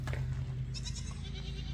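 Goats bleat in a short, steady, nasal call over a low hum, fairly close and moderately loud, filling the whole brief moment.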